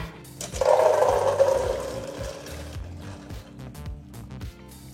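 A brief rush of water pours out, loud at first and then trailing off, as water is drained from boiled chickpeas close by.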